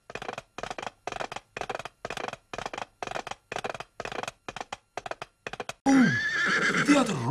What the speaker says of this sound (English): He saw some horse riders.